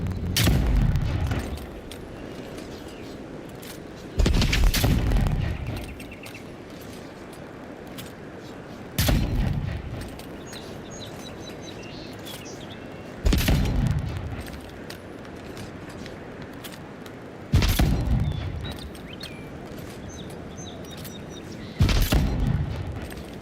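Ranged weapon shots in the fantasy game Avowed, five loud single booms spaced about four seconds apart, each followed by a rumbling decay, with no talking between them.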